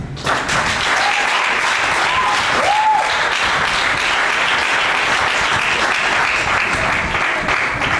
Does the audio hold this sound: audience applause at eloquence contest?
yes